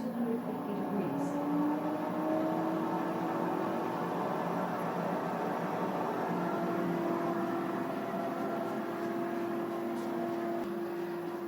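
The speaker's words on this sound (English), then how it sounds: "Air frying for 6 minutes at 250 degrees" A countertop air fryer set to 250 degrees runs with a steady, moderately loud fan hum and a sustained tonal whine that drifts slightly in pitch, continuous and close, with no talking.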